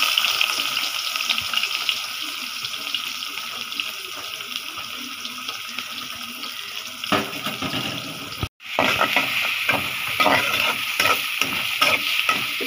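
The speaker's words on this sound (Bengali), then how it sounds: "এটা এখানে আমি পেঁয়াজ দিয়ে দিই" Onions frying in an old, blackened pot for poa fish curry give a constant loud hiss, then after a brief gap come close, irregular scrapes and knocks of stirring over the sizzle.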